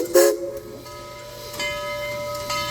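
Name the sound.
museum locomotive passing the train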